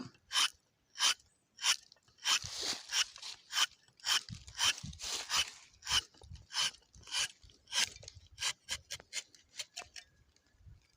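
A sharpened rubber-tapping knife cuts into rubber tree bark with steady, rhythmic scraping strokes, about two per second, close and fairly crisp, with no talking.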